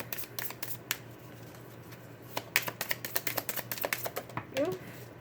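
A deck of tarot cards is shuffled by hand nearby, giving rapid crisp riffling and snapping bursts that build into a dense flurry, with a voice speaking softly underneath.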